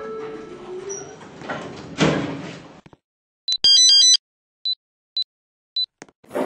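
Stannah lift doors in a Roblox game sliding open, a whooshing slide followed by a loud chime and several short repeated beeps, with no talk.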